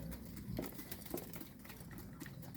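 Pigeons coo softly in a low, repeated murmur against a steady background hiss, with light scattered pattering and no voices.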